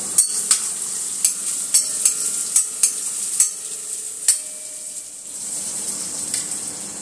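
Onion sizzling in a hot tempering with cumin seeds and whole dried chilies, a steady frying hiss broken by a run of sharp clicks from stirring against the pan.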